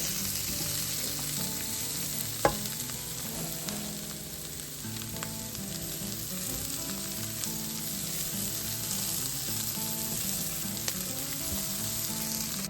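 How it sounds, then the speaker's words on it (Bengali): Vegetables sizzle steadily in a pan for fried rice, a continuous close crackle with one sharp utensil knock and faint kitchen hum in the background, no talk. "তো আমি এখানে ভেজিটেবলসগুলো ভেজে নিচ্ছি ফ্রাইড রাইসের জন্য"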